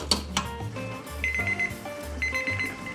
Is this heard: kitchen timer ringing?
yes